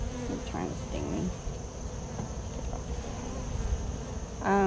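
Honeybees buzzing steadily around an open hive during a brood inspection, a continuous close droning hum with individual bees passing near, ending in a brief louder sound.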